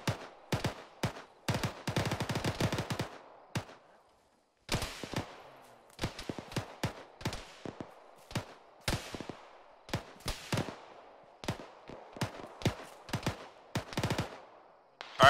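Video game gunfire in ShackTac, a tactical military shooter, cracks out from a treeline near a bunker in rapid bursts and scattered single shots, close and loud, with brief pauses between volleys.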